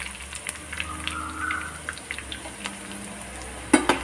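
Prawn and potato snacks frying in hot oil with a steady low sizzle, scattered small crackles and pops, and a sharper clatter near the end.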